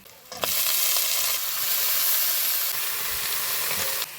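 Katla fish head already fried with onion and chilli in a pan, now with chopped greens, runner beans, potato and eggplant added, sizzling in a loud, steady, close hiss for the whole stretch.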